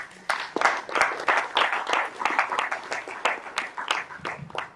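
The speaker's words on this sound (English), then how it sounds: "This is applause is for sponsors." Conference audience applauding sponsors at a hemp industry event, a steady wash of hand claps lasting several seconds, fairly close and full, with a few sharper individual claps standing out.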